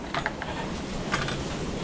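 A ratcheting socket wrench clicks quietly a few times in quick, uneven bursts over faint background noise, close by.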